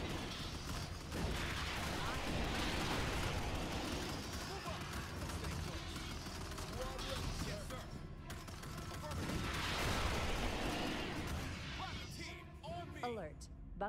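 Rocket troops firing during a bug fight in Starship Troopers: Terran Command, with a steady wash of battle noise and dense volleys of shots and blasts that swell twice, mixed with talk.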